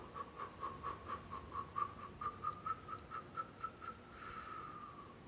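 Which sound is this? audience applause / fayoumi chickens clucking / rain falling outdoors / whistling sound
whistling sound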